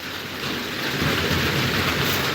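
Steady drizzling rain falling outdoors, a continuous soft hiss of drops that swells slightly after the first half second and holds evenly, with no voices.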